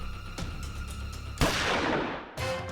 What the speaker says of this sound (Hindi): अंदर से गोली चलने की आवाज आई है